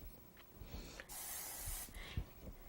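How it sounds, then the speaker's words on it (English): Nonstick cooking spray hisses out of a can onto a kitchen appliance in quiet, soft bursts, with one longer steady spray in the middle. "all you got to do is spray it with nonstick first"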